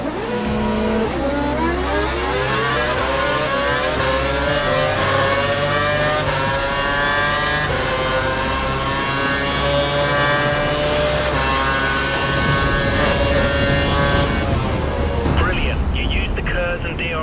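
Formula 1 race car engines in the F1 2012 video game at Abu Dhabi scream loudly through rising and falling revs during an overtake, with gear-change dips, another car close by and a voice talking over the engines.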